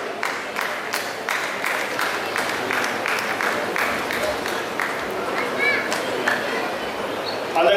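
Applause from a seated audience at an award and felicitation ceremony, a dense, steady patter of many hands clapping that carries on throughout at moderate loudness.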